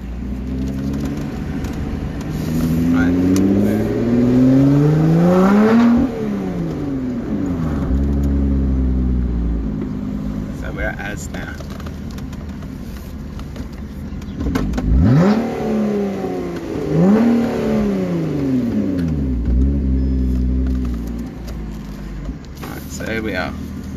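A car engine revs up and down repeatedly, rising and falling in pitch, heard from inside the car with a steady rumble underneath.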